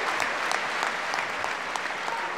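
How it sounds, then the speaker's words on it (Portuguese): A crowd applauds a rock band's drummer at the International Portuguese Music awards ceremony, giving steady, dense clapping with scattered sharper claps throughout and no voices over it. "Nós queríamos que vocês todos dessem uma salva de palmas para ele."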